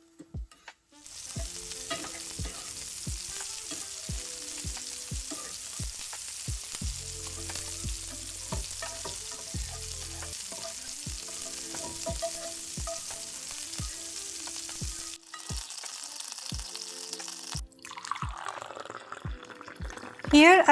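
Onion, ginger, garlic and tomatoes sizzle steadily in a pan for a broth, with frequent clinks of stirring, brief pauses near the end and a louder burst at the close; a voice speaks over the frying.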